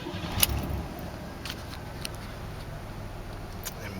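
Keys jangle sharply at the start of a 1991 Buick Regal startup, then a low, steady engine rumble runs throughout with a few faint ticks.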